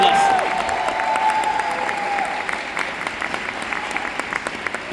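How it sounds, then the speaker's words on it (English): An audience at a training seminar in Budapest breaks into loud, sustained clapping that starts over a fading musical tone and continues steadily with sharp individual claps. "Let's give her a very big round of applause."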